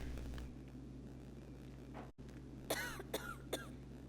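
Three short, raspy coughs in quick succession from a GTA video game character, close by, over a quiet low hum.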